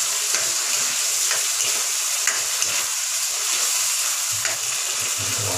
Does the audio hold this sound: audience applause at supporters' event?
no